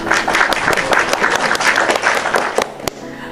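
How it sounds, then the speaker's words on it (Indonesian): A short burst of dense clapping from a group, loud and lively, tapering slightly toward the end. "Nah, oke, tepuk tangan dulu dong."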